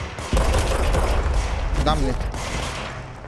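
Gunfire in the video game Control rattles loudly and continuously through the whole stretch, with a brief spoken exclamation cutting in over it.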